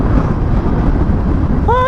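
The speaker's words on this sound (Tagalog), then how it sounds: "Ay, lakas ng hangin." Strong wind buffeting a microphone during a solo motorcycle ride toward Cabanatuan, a loud, steady low rumble of gusts filling the whole clip, with a brief whistling tone near the end.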